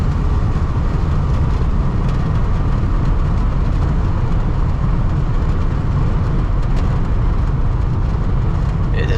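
A 1988 Ford F250 4x4 truck with a brick-nose body accelerating on the road, heard from inside as a loud, steady engine drone and road rumble that holds throughout without a break.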